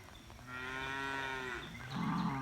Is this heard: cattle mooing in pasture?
yes